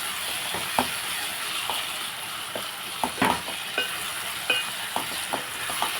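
Tomatoes for an egg curry sizzle and cook down in a pan with a steady soft frying hiss close by, punctuated by light taps and scrapes of a stirring spoon.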